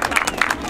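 A live audience claps in a dense steady patter, welcoming a volunteer up on stage at a comedy show, close and lively for a brief moment.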